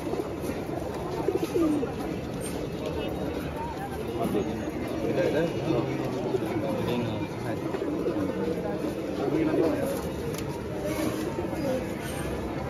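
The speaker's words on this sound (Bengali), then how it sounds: "গিরিবাজ, পাকিস্তানি সব রকম কবুতর রাকিব ভাইয়ের কাছে পাবেন।" Pigeons coo at a busy outdoor pigeon market in Katakhali, Rajshahi, where Giribaz and Pakistani breeds are sold; steady soft cooing runs throughout amid crowd chatter and nearby talking.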